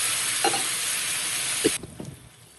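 Asafoetida sizzles in hot oil for a tempering, a bright, even crackling hiss that cuts off abruptly, followed by a few soft taps and clicks.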